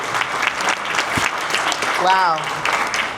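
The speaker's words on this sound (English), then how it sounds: "Big round of applause to our new supervisor." An audience applauds a newly introduced supervisor at an SGV Caucus program gathering, steady clapping filling the room under a short exclamation and a voice that rises briefly near the end.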